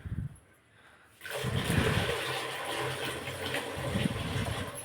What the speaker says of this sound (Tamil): இதில் எப்படி தண்ணி ஊற்றிப்போம்